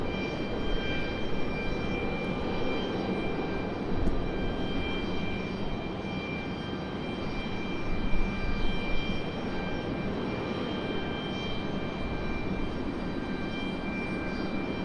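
An ATR turboprop airliner on approach to land at Raleigh-Durham airport drones steadily at a moderate distance, its engine hum and propeller whine holding fairly even, with a slight swell partway through, no talking.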